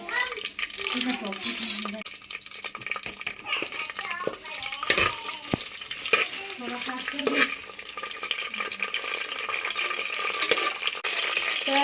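Thick onion paste sizzles and spatters in a hot pan while a spoon scrapes and stirs, with occasional clinks of utensils against metal, while cooking a village-style goat curry.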